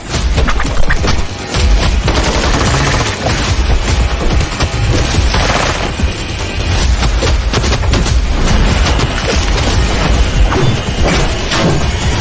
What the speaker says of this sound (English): Explosions, bullets flying, elbows hitting, punching, kicking.